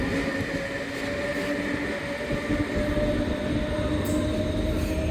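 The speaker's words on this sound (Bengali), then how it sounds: "আমরা এখন ট্রেন স্টেশনে আছি ইন্টারলেকেনের।" Steady train rumble and rail noise at Interlaken station in Switzerland, a continuous loud low drone with a faint hiss above, no voices.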